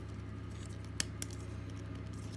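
Plastic parts of a Transformers Movie Masterpiece MPM-7 Bumblebee figure being folded give two small, sharp clicks close together over a low steady hum, quiet and close up.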